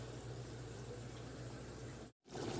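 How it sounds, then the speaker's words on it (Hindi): A large quantity of water, around fifteen cups, runs steadily into a big cooking pot for chicken pulao, a constant close rushing pour that halts briefly near the end before resuming. "तो मैं 15 कप पानी के डालूँगी"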